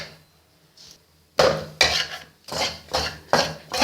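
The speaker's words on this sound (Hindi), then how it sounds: "मैंने 1 मिनट भी चम्मच छोड़ा नहीं है, मुसलसल मैं इसको हिलाती रही हूँ।" A spoon stirs cheerh halwa made with desi ghee and mawa in a metal pan, giving six loud, evenly spaced scraping clanks after a quiet start.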